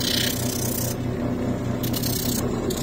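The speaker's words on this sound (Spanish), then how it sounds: "Y para estos trabajos le hacemos con una lija número 36." Coarse 36-grit sandpaper rubbing across a shoe sole during resoling, a steady loud rasping scrape that runs continuously with slight shifts in texture and no talk.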